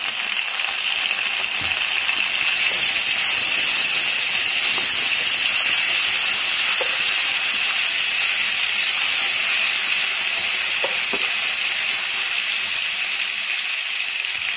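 Onions frying in oil with ginger garlic paste added, a loud, continuous close sizzle like steady hissing, with faint occasional crackles and no talking.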